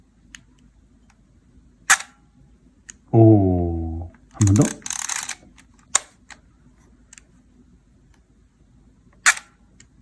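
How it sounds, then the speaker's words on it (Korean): Film camera with a winding lever: sharp mechanical clicks of the shutter stand apart amid near silence, with a longer ratcheting burst of the winder advancing; a short spoken phrase appears in the middle. "와인드를 돌리고 사진을 찍으면 돼요. 소리가 되게 예쁘니까 한번 들어보세요."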